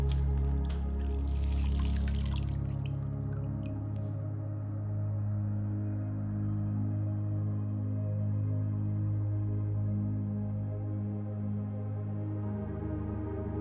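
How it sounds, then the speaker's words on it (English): Water poured and wrung from a bowl during a facial cleansing, a brief splashing trickle at the start followed by a quiet, steady soft-music bed for the rest. "Using a fresh bowl of clean water, I wipe away the residue."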